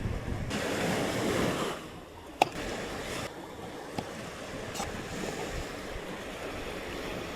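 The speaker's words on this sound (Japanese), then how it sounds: "風波が出てきましたもんね" Steady wind and rolling waves at sea from a boat on a sea-bream fishing trip, a continuous loud wash with wind buffeting the microphone and a couple of sharp knocks.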